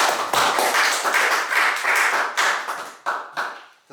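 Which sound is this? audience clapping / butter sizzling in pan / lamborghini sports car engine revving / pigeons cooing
audience clapping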